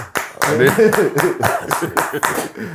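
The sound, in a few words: round of applause, clapping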